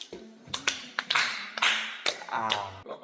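Sharp hand claps, about eight of them in an uneven quick burst, close and fairly quiet in an indoor talk setting.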